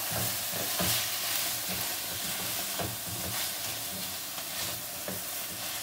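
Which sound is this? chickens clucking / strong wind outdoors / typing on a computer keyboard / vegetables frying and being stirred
vegetables frying and being stirred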